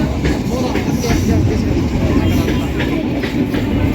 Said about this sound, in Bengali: আমরা ট্রেনে এখন সবাই এক জায়গায় বসে আছি।